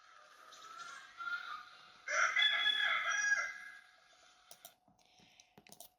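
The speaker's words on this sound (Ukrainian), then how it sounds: "Півник дзьобик пильне око." A rooster crows loudly once, a long bright cock-a-doodle-doo near the middle, preceded by softer clucking and followed by faint clicks and rustling.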